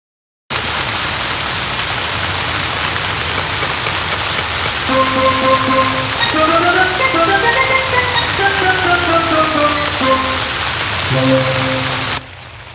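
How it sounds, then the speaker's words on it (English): Heavy rain pours in a dense, loud, continuous hiss for most of the stretch, while a melodic musical tone rises and falls in the middle and near the end. "I've never seen it rain this much"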